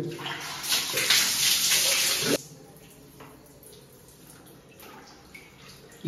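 Tap water runs loudly and steadily for a hair wash, then drops off to a faint trickle and drips before surging again at the end.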